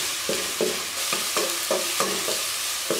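Tomatoes and onions cook down in a pan for a chicken bread filling, with a steady sizzle under rhythmic spatula stirs and scrapes, about two per second, close and fairly loud.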